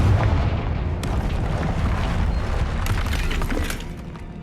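A Confringo fire spell blasting in the Hogwarts Legacy video game, heard as a loud, dense rumbling burst with sharp crackling impacts and a sustained booming roar, set among troll-strewn debris, with no talking over it.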